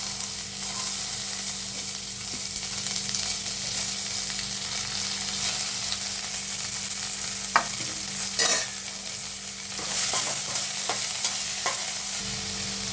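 Sliced onion and mustard seeds frying in hot oil, a continuous close sizzle with brief crackles and pops, some spoon-on-pan scrapes, no voices.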